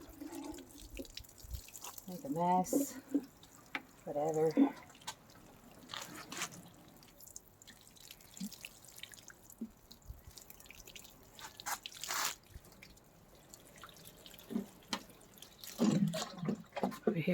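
Water poured from a can into six small pots of freshly planted fuchsias, heard as intermittent trickles and drips between bursts of nearby talk.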